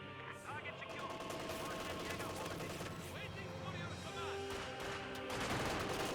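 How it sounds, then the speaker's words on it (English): MG-42 machine gun fire in the Company of Heroes 2 strategy game, rapid bursts of gunfire and battle noise running continuously, with other weapons and effects layered in the mix. "Now got an MG-42."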